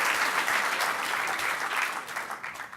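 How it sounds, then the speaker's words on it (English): A conference audience at a hacker event claps in a brief burst of applause that holds steady, then thins and fades toward the end. "Could I get a round of applause, please, for the Harvard Five?"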